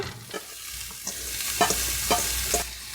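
Julienned strips of two carrots sizzle in a frying pan still slick from cooking egg, with scattered stirring scrapes and pops. The frying is steady and close, and nobody speaks.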